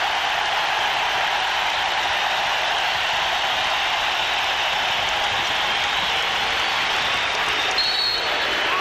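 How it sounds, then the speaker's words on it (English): Basketball arena crowd during a 1991 Bulls versus Pistons playoff game, a loud, sustained roar of cheering and applause that holds steady throughout. "listen to the crowd in the stadium"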